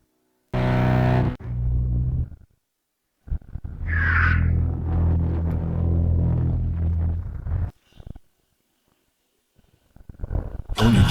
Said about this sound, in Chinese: 这下雪天怎么会雷鸣交加？